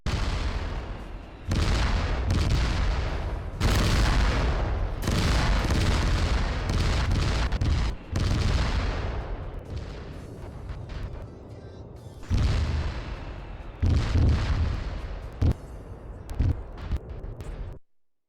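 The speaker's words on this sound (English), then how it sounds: "how to make a carpet bombing effect in ArmA 3" Carpet bombing from IEDs in ArmA 3: a rapid barrage of heavy booming explosions rolling one into the next, loud and dense, thinning into scattered blasts and rumbling decay toward the end.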